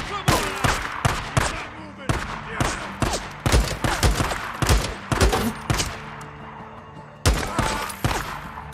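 Gunfire in the video game Days Gone: a series of loud, sharp shots fired in irregular bursts with short gaps between them, close and prominent, with little talk over them.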